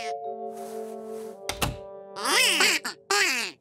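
Cartoon ducks quack in a lively, nasal series after a heavy thunk, with tonal music holding underneath at the start; the quacks are close and loud, coming in quick bursts.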